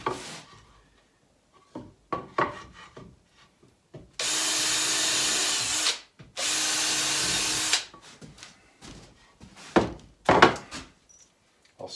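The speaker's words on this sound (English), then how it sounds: "Pre-drill." A power drill pre-drills a reclaimed fence board for a wooden planter box: two steady, loud whirring runs of about two seconds each, separated by a brief pause, framed by scattered knocks and handling thuds on the wood.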